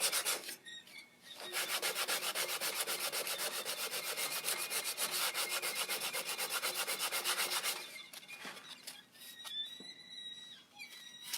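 Wood spinning on a lathe being sanded with 220 grit sandpaper makes a sustained, rhythmic rubbing hiss for about six seconds, with quieter scraping and handling noises before and after.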